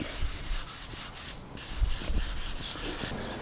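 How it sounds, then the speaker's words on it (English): Light, steady sanding of a headless guitar's wooden body with a sanding block in rhythmic back-and-forth strokes, close up, with a brief pause midway. "I'm just kind of letting the weight of the sanding block take care of it."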